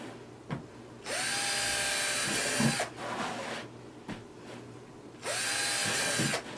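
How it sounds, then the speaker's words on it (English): A cordless drill with a very fine bit bores holes into a pressboard sign in two loud, whining bursts of about two seconds each, separated by quieter handling sounds. "my drill has a very fine bit in it. So I'm just going to drill a hole"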